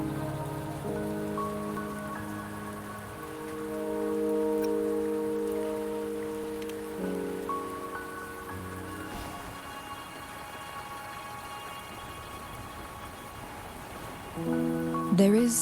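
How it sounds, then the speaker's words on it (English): Rain falls steadily in the video game Wuthering Waves on Mount Firmament, a continuous wash of drops heard under sustained musical tones and soft ambience throughout, with a brief louder rise near the end. "Don't worry, the rain won't last much longer."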